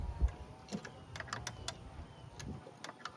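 Sharp metallic clicks and ticks sound close up as the distributor bolt on a C3 Corvette, left sitting for ten years, is worked loose with a ratchet, irregular and fairly quiet.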